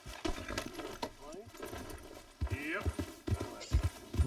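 A horse's hooves approach in Red Dead Redemption 2, clip-clopping in uneven bursts that grow nearer, with a brief whinny and a voice talking alongside.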